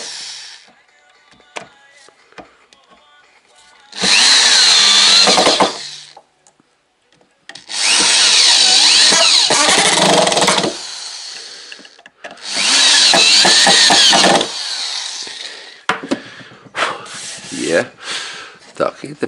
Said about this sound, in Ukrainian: І шуруповертом просто прихващуємо її